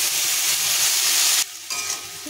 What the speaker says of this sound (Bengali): এর মধ্যে এখন আলুর টুকরোগুলো দিয়ে দিলাম, ভালো করে এবার নাড়াচাড়া করে নেব